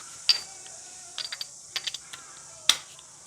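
A ratchet with an extension working on a cylinder head bolt of a Kubota M4950DT tractor, giving a few sharp metallic clicks and short bursts of pawl ticking, close by and fairly quiet, with no talking.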